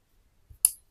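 A single short, sharp snip from cutting a TinyWhoop drone's 5.8 GHz antenna wire, close and quiet, preceded by a faint soft tap.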